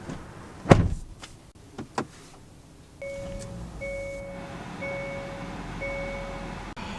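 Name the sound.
getting into a 2023 Hyundai Kona car, door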